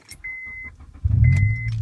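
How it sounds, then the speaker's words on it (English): A manual stick-shift car starts: keys jingle and a warning chime sounds twice, then the engine cranks and catches about halfway through and settles into a loud, close, rumbling idle. "Once it's all the way down, the car will turn on,"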